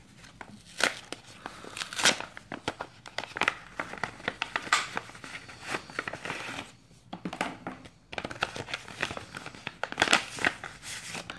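A paper envelope holding a watch strap is handled and opened nearby, with irregular crinkling, rustling and tearing bursts throughout, no voices.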